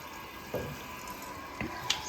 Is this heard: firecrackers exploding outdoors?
no